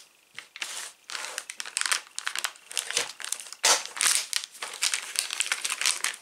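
Small plastic bags of screws from a Patrouille de France Alpha Jet model kit crinkle and rustle as they are handled, a close, busy run of crackling bursts that rises and falls throughout.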